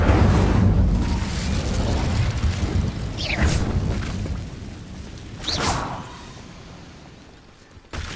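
Incendio fire spells cast in Hogwarts Legacy burst with a deep whooshing boom, and two sharp flaring swishes stand out over a rumbling, fading backdrop.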